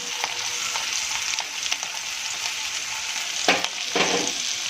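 Potatoes with green chillies sauté in a hot pan for veg pulao, giving a steady, close sizzle with a couple of louder stirring scrapes near the end.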